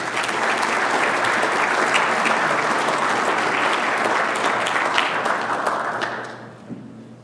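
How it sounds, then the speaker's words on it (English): Audience at a Boy Scout Eagle Court of Honor breaks into loud, steady applause lasting around six seconds before tapering off into a few final claps. "would you give them a round of applause?"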